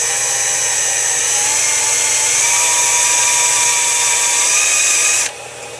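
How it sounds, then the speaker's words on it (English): A small, lightweight electric drill runs steadily as it bores into a steel 3D printer bed, a continuous loud high-pitched whine with a gritty edge that holds for about five seconds and then stops abruptly. "I'm using my little easier to control drill. It's a lot more lightweight."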